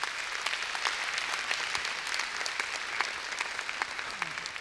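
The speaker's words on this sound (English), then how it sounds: "Let us give big applause to these third prize winners" An audience at an award ceremony claps for third prize winners, a steady, moderately distant round of applause with scattered sharper claps, no talking.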